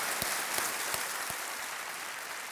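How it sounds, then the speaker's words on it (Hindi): Dense applause from a studio audience on a television quiz show, a steady wash of clapping that fills the space, with a few louder individual claps near the start. "एक बार फिर तालियों के साथ इनका स्वागत किया जाए"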